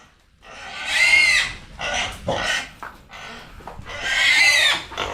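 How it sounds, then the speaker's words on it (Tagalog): Farm pigs squeal and grunt in several loud, close bursts with short gaps between them, heard alone without talk. "Nawawala ang mga baboy."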